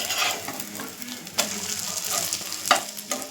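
Bread fries in a little oil in a pan with a soft, continuous sizzle, punctuated by a few clear scraping and tapping hits of a utensil, heard close with no talking.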